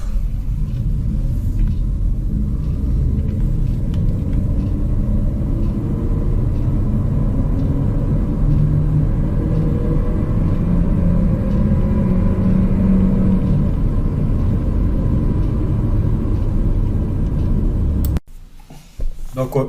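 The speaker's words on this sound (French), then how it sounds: "On va se voir une petite accélération" A Renault Arkana Esprit Alpine with automatic gearbox accelerating, heard from inside as a loud sustained engine and road rumble that builds steadily before cutting off abruptly near the end.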